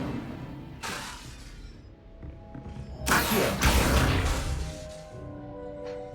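Fire spell effects cast in the Hogwarts Legacy video game: a short whooshing burst followed by a longer, louder roaring blast of flame, set against quiet game ambience with tonal music underneath.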